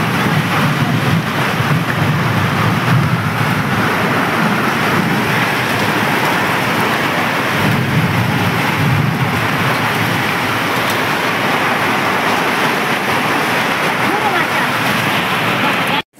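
Torrential rain mixed with hail pounds down in a fierce windstorm that bends trees, after a long drought, forming a loud, dense, unbroken roar that lasts throughout.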